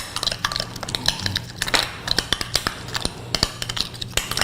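A spoon stirs a chili powder spice mixture in a bowl, making quick, irregular clinks and taps against the dish, close and clear, with no voices.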